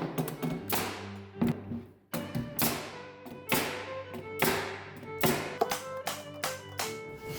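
A nail gun drives nails into the wooden frame of a dog house for two, firing roughly ten sharp, loud bangs at an uneven pace. Each shot is a close, percussive crack with a short ringing decay, and there is no talking.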